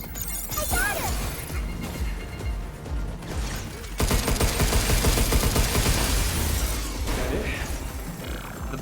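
Dense video game gunfire, rattling automatic bursts and crashing impacts layered with game sound effects and voices, growing louder and more sustained in the second half.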